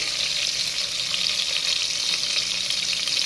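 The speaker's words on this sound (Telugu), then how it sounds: "కొంచెం జీలకర్ర అండి జీలకర్ర ఆనియన్స్ అనేది కొంచెం వేగాలి" Cumin seeds and onions fry in a pan for Telugu-style chana dal egg masala curry, giving a steady, close hiss of sizzling oil that runs unbroken from start to finish with no one talking.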